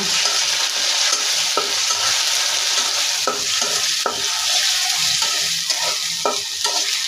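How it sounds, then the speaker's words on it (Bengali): Onion paste and ginger sizzle and fry in a pan, a steady close crackle broken by occasional scraping stirs of a spoon. "পেঁয়াজের পেস্ট দিয়ে দেব, কিছুটা আদা দিয়ে দেব, দিয়ে কিছুক্ষণ ভেজে নেব।"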